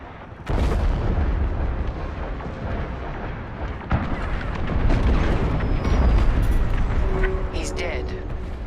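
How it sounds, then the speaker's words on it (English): A frigate explodes in the Star Wars Squadrons video game: a sudden loud boom bursts in, then a sustained heavy rumbling roar of blasts and debris that swells and lingers for several seconds, with faint high crackles near the end. "The frigate is about to explode."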